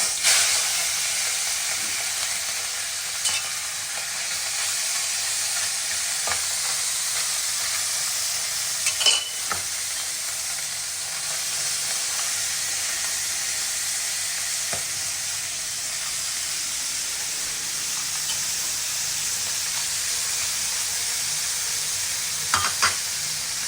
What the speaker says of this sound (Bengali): মাছগুলো ভেজে নিয়েছি, কড়া করে ভেজেছি মাছগুলো।